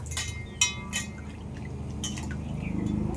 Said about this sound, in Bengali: আমি আমগুলো ভালো করে ধুয়ে নেব